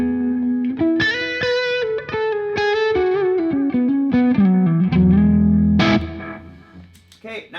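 An electric guitar plays a clean melodic line through an analog delay pedal, each note trailing soft echoing repeats that blur into one another before the sound fades out.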